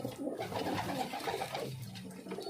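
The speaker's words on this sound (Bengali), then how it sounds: "এই যে পায়রাটা আসলো, এটা আবলুকের বাচ্চা, সাদা কেটেছে।" Madras and Ablook pigeons cooing during an afternoon feeding, a continuous, soft, low throaty cooing from several birds close by, with no voices.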